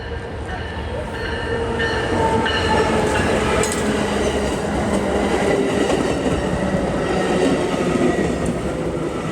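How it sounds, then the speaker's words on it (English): Continuous rumble of a moving train from Jefferson City heard from onboard, with rattling and faint clacking of wheels on rails, steady throughout with light background noise. "We're on the train from Jeff City."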